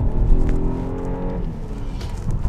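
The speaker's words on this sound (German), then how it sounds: "wenn wir jetzt hier mal beschleunigen, berghoch." A BMW 2 Series Active Tourer pulls uphill under acceleration, its engine note climbing steadily with a loud, close drone from inside the car, then briefly dipping as the gear changes.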